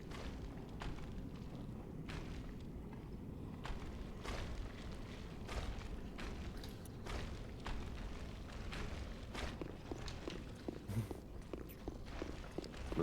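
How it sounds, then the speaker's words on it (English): Footsteps in Dark Souls 3, a quiet series of soft thuds and scuffs spread unevenly across the stretch over a low game ambience, with no voices. "Listening to footsteps."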